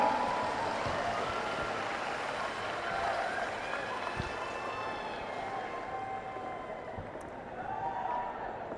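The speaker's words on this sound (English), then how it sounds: "Could y'all give a round of applause for our brave volunteers?" A crowd of school district educators applauds volunteers coming on stage during a motivational speech in Texas. The clapping is steady, dense and fairly distant, with a quiet hall murmur underneath.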